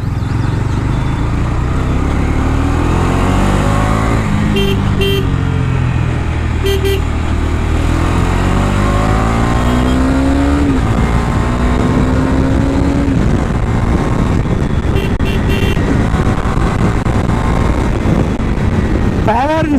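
A Bajaj Dominar 250 motorcycle is ridden on the road, its engine rising and falling as it accelerates through the gears under constant wind noise, with brief horn toots and a rider talking.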